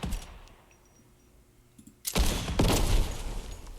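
A single gunshot from a single-shot gun in Fortnite, one sharp loud blast after a quiet stretch, followed by a ringing, decaying tail.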